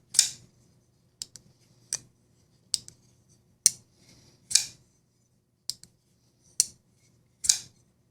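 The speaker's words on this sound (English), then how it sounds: "now I'm gonna go ahead and do the thumb flick" Sharp metallic clicks and snaps of a Koenig Mini Arius folding knife blade being thumb-flicked open and closed, about a dozen separate crisp hits with short pauses between them.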